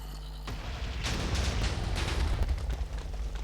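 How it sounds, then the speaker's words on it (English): Explosion in the Minecraft video game: a sudden loud blast erupts after a short quiet hum, followed by a sustained roaring, crackling rumble that fades slowly. "What triggered an explosion?"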